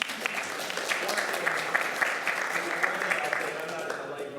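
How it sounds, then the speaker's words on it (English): Audience applause fills a school district board meeting, a steady, dense clapping from a room full of people with a few brighter claps poking through, sustained and fairly loud throughout. "All right, give yourself another applause."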